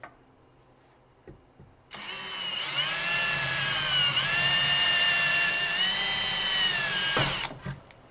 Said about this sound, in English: I'll just be drilling holes in the top of the surface and just putting rivets in there